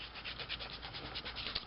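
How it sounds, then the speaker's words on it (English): Hand sanding of a model, a steady soft rasping scrape repeated in quick even strokes, close and fairly quiet with no voices. "So I'm going to wrap up this sanding for a while."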